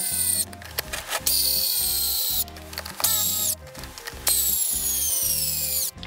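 Power driver screwing down a steering servo on an Axial Capra RC axle, repeated bursts of high whirring motor with ratcheting clicks, starting and stopping several times close up.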